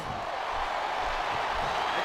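Steady roar of a wrestling arena crowd in WWE SmackDown Here Comes the Pain, a continuous broadband din of cheering and noise held at even loudness throughout.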